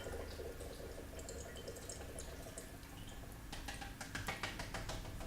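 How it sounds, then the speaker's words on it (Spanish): Diesel mixed with water is poured through a fuel trap, a faint continuous trickle of liquid that turns into brighter splashing and dripping near the end, with no one speaking. "Ahí hemos pasado todo el gasoil con el agua."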